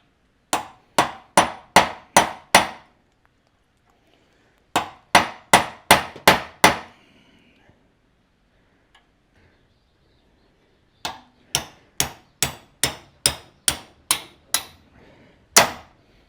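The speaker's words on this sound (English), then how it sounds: "I ran the cold chisel down it" Hammer blows drive a cold chisel through a pressed-in suspension bush, in three bursts of rapid, evenly spaced metallic strikes, loud and close, with short quiet pauses between the bursts.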